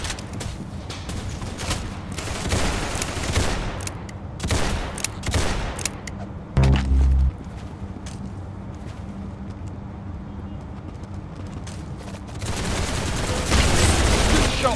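Rapid bursts of gunfire fill a Roblox Arsenal match, dense overlapping shots and automatic fire crackling continuously at close range, with a brief lull and then heavier volleys near the end.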